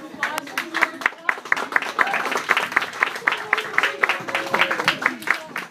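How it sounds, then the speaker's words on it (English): A small audience claps after a classroom presentation on George Washington, with individual sharp hand claps clearly separable and uneven, mixed with talking and chatter over the applause. "final round of applause"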